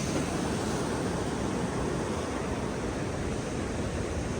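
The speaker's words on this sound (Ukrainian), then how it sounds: "тут я чую дуже-дуже сильні прибої" Steady roar of surf, a dense wash of breaking waves with wind, constant and loud, no voices.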